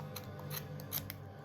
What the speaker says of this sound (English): snipping away there. And the less you put on your scissors, the quicker it takes.